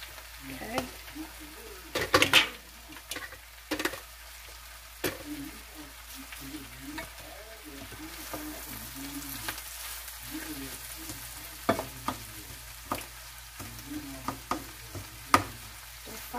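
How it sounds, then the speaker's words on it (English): Onions are stir-fried in a pan for a spring mix and onion frittata, a soft, steady background sizzle broken by frequent sharp scrapes and clacks of a utensil against the pan, with some quieter stretches. "We're going to stir fry that really well. Some onions in there."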